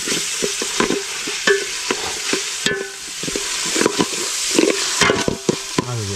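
Wild mandi mushrooms fry in a pot over an open fire while a spoon stirs them, giving loud repeated scraping strokes over a steady sizzle, with no one talking.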